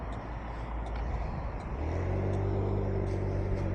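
Road traffic passes a motorbike, heard from a microphone inside the rider's helmet with the visor open, a broad rumble that swells as a vehicle goes by.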